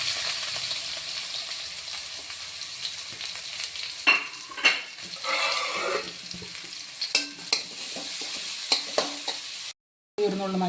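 Mustard seeds, curry leaves, green chilies and onion fry in hot oil for a Kerala thoran, a loud, dense sizzle with crackling pops and repeated stirring scrapes, briefly cutting out near the end.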